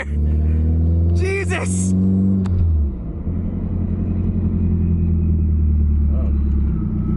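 Loud engine of a Nissan S14 heard from inside the cabin, a steady heavy rumble with a rising rev early on, continuous throughout with people talking over it.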